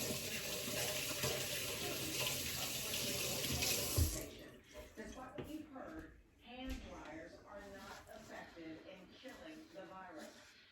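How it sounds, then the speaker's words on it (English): Tap water runs steadily into a kitchen sink while hands are rinsed, then stops, and a person talks over the water and after it. "Let me rinse my hands."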